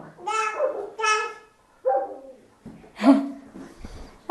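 Recorded dog barking played through an Amazon Alexa smart speaker in a Qatar apartment: three short, tonal bark-like bursts in quick succession, then a brief voice and some rustling.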